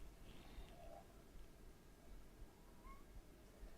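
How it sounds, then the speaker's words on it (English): A small rubber squeaky toy ball squeaks a couple of times, faint and brief, sounding much like a cat's meow, heard indoors over steady low room noise. "It's the squeaking ball of doom."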